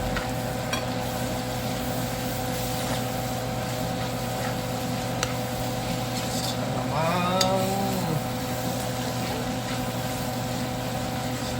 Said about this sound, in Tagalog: Nagigisa ko ng alamang.